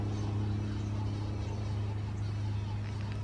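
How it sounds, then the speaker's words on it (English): A low, steady buzz of mud wasps hums close by without pause, droning continuously. "They're called mud wasps and they build their nests out of mud."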